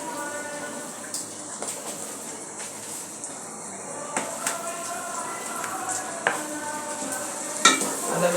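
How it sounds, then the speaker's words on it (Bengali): Ginger paste is stirred into beef frying in a pan, with a low background sizzle and intermittent scraping and clinking strokes of a utensil that grow busier toward the end. "আদা বাটা দিয়ে একটু নেড়ে ছেড়ে দিতে হবে"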